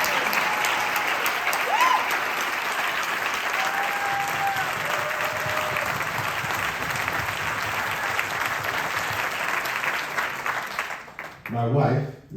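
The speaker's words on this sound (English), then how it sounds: "You clap it up for them too." Applause from the crowd at a county executive swearing-in ceremony, a broad, steady clapping that holds for several seconds before breaking off near the end, where a voice briefly speaks.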